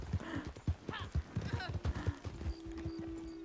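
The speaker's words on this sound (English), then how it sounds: "On the back of my horse." Horse hooves clip-clop in a rhythmic series of close, sharp thuds in Red Dead Redemption 2 online, with people talking over them and a steady tone entering near the end.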